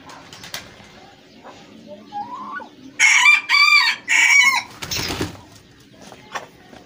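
Chickens at a poultry show in Mandi Bahauddin, Punjab, cluck and rustle before a rooster crows loudly nearby in several long, ragged bursts, followed by more clucking. No speech.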